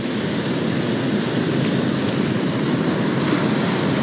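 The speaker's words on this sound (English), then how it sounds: "these waves are really nicely spaced" Beach surf rolls and breaks on the California shore in a steady, dense wash of churning water, with some wind buffeting the microphone.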